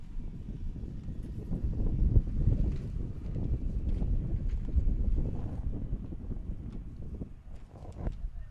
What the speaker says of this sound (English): Another gust of wind here at Carey Stadium.